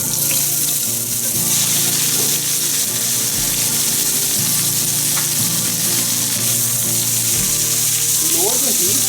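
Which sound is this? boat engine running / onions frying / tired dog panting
onions frying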